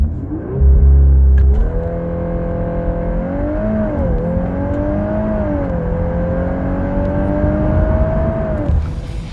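A Volkswagen Golf R hatchback accelerates hard, its engine note climbing and wavering through gear changes in a loud, close, continuous drone that cuts off near the end, with no talk over it.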